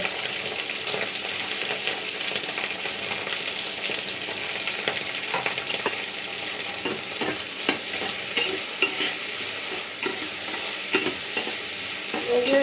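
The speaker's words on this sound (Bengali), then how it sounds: "ভালো মরিচ, পেঁয়াজ, রসুন ভাজা শেষ" Chilies, onion and garlic fry in hot oil while being stirred, giving a steady close sizzle broken by frequent sharp scrapes and clicks of the spoon against the pan.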